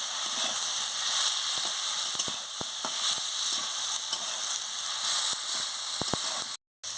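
Fish curry masala with mustard paste sizzles steadily in a pan, a continuous close hiss broken by sharp spitting crackles and occasional stirring scrapes, with a brief dropout near the end and no voices.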